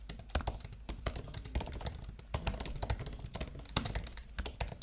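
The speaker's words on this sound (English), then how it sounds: "here's what the keyboard sounds like" Typing on an M1 MacBook Air keyboard with well-worn keycaps: a fast, continuous patter of close, crisp key clicks with no voices.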